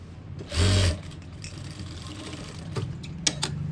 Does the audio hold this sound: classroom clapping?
no